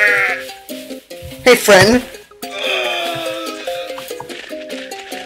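Goat bleating in Goat Simulator: a loud, wavering bleat cuts in around the middle over bright, bouncy game music, and a voice speaks briefly just before it.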